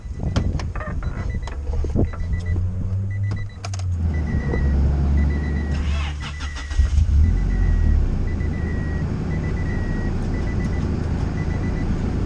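Acura Integra with a B20 GSR-based engine, freshly timed, rumbles into life and settles into a steady, loud idle with a low throbbing hum, some mechanical clicks and a brief surge partway through.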